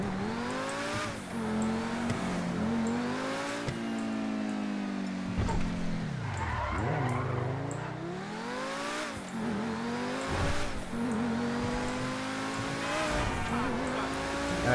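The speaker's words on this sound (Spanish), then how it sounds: "Es que este coche se conduce súper bien." A car in GTA 5 with a real-life mod drives steadily with its engine droning and shifting pitch, dipping and rising as it slows and speeds up, with tyre noise and brief thumps along the way.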